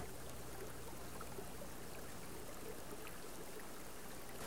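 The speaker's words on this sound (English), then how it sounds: "A 30-foot waterfall in a coastal plain is unique." Steady broadband rush of a 30-foot waterfall on Alabama's coastal plain at Hidden Falls, a continuous even roar of falling water with no voices.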